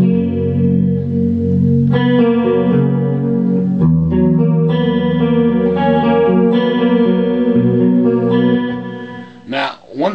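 Clean electric guitar through an 80s–90s hair metal pedalboard chorus effect, ringing out shimmering sustained chords loud and alone, with a wobbling, doubled tone before a short pause and a final struck chord.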